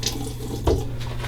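Water runs briefly from a tap into a sink while shaving soap is being lathered in its tub, a short close splash and gush over steady flow.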